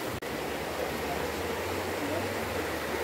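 The Lel stream flowing near a waterfall in Berendeevo Tsarstvo near Lazarevskoye, a steady broadband rush of water, close and continuous, with a single brief dropout near the start.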